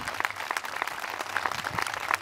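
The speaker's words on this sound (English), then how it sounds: "let's give her a tremendous round of applause" Scattered clapping from an audience at a community event honouring a Montague High student, a light, uneven patter of hands that stays moderately loud and fairly sparse across the whole stretch.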